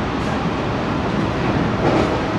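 Bongaon–Sealdah AC local train running, a loud, steady rumble and rolling roar that stays level throughout with no breaks.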